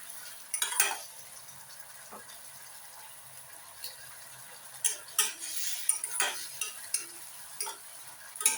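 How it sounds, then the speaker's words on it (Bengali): Tomato masala for a rohu fish dopiaza sautés in a pan, a soft sizzle under repeated clinks and scrapes of a spoon against the metal, close by, uneven in rhythm, with no voices. "1 মিনিট ধরে এভাবে আমি কষিয়ে নেব"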